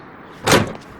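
A single door bangs shut in a Sherlock Holmes Crimes & Punishments video game, one short thud-like slam alone in a quiet scene.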